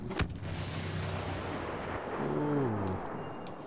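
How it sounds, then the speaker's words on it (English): A blaster cannon fires in a Star Wars video game, letting out a sharp, booming blast near the start. Rumbling game noise and a short tonal sweep follow underneath. "Blaster cannon!"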